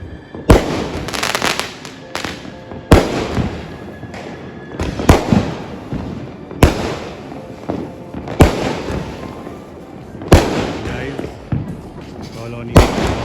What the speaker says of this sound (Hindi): पटाखों में क्या आवाज़ आएगी?